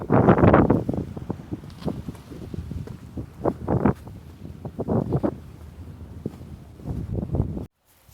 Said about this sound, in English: But it's too windy, certainly for a painting